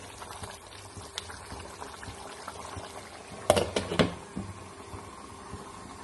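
Spicy chicken curry simmers on a low flame with a soft, steady bubbling hiss, broken midway by a brief cluster of clinks and stirring knocks before settling back into the gentle simmer.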